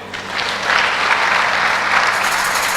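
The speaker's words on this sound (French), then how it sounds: "Est-ce qu'on peut l'acclamer?" An audience bursts into applause, the clapping swelling after a moment into a dense, sustained ovation that carries on steadily and fairly close, with no voices over it.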